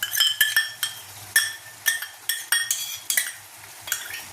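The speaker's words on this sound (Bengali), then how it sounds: "এবার আমি এর মধ্যে টক দইটা দিয়ে দিচ্ছি।" A utensil scrapes and clinks against a pan while sour yogurt is added to cooking masala for fried paneer masala, sharp metallic taps in an irregular rhythm, close and clear with no talking.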